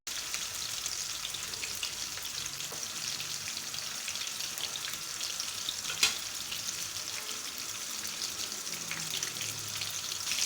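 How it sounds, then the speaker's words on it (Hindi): Chapli kebab frying in a pan over normal heat gives a steady, even sizzle and crackle that runs the whole time, with one brief sharper pop near the middle and no talking. "ये देखिए हम अपनी चपली कबाब को तकरीबन 3 मिनट नीचे से पकाएंगे, 3 मिनट ऊपर से।"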